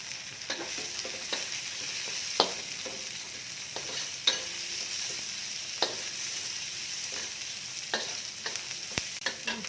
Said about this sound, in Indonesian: Kita masukkan nih bawang bombaynya.